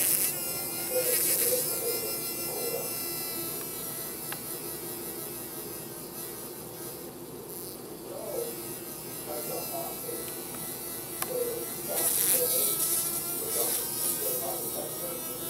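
Fly buzzing as it spins, a thin continuous drone that rises and falls in strength, with people talking over it at times.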